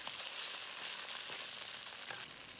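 Dried shrimp and golden shallots for pad thai sizzle steadily in a pan, a dense close hiss that holds evenly and then drops slightly near the end, with no voices.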